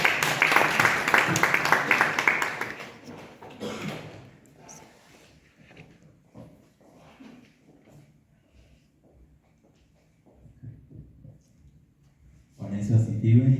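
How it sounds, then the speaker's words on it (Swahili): Loud crowd applause at a community gathering opens and fills the first few seconds, then fades into quiet room murmur and shuffling before a voice starts at the end. "Makofi kwake kikuja."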